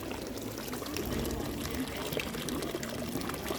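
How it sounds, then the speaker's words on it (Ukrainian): Hot mineral water from a spa spring in Karlovy Vary pours steadily into a small cup, a close, continuous splashing trickle with people's voices faintly around it. "покажи нам, як ти набираєш чашечку"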